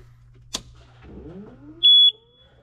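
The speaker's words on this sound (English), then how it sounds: "I got the beeper back. So now it'll holler at us if we have any other major issues." John Deere 6190R tractor warning beeper giving one short, loud, high electronic beep, preceded by a brief click and a low hum in an otherwise quiet cab.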